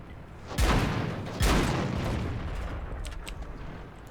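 Two heavy booming tank cannon shots in World of Tanks, loud and about a second apart, each followed by a long rumbling decay, with a few faint clicks afterward.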